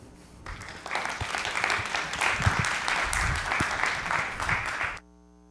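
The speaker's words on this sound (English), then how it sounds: "Of applause for Paulius" Audience applause after a conference talk on ecommerce, a dense steady wash of clapping that swells in quickly, holds for about four seconds at moderate loudness and then cuts off abruptly.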